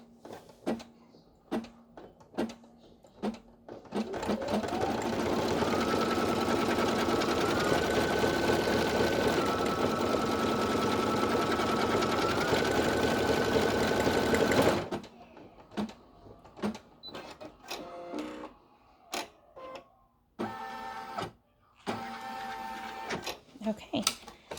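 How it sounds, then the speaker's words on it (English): An embroidery machine stitches a tack-down line on a strap for a snap-on hand sanitizer holder, whirring steadily for about ten seconds, then stops; clicks and handling noises follow. "now we're going to stitch the tack down on the strap"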